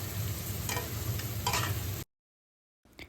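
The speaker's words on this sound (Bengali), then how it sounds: "এবার আদা আর রসুনটাকে ভালো করে কষিয়ে নেব" Grated ginger and garlic sautéing with fried onions in a pan: a steady close sizzle with soft stirring scrapes for about two seconds, then an abrupt cut to silence before a faint noise returns.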